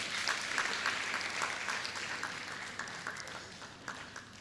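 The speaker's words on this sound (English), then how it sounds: "All the ladies should clap at this point." Audience applause at a law practice business talk, with women in the crowd clapping; steady dense patter of many hands throughout, moderately near, with individual sharper claps standing out and no talk over it.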